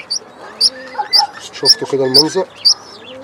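Sparrows at a nest feeding their young, repeated high bright chirps in a loose rhythm close by, with someone talking over them.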